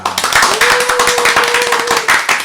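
A studio audience at a live Korean talk show claps briskly, a short, loud burst of many hands with a sustained tone running through it, fading out after about two seconds.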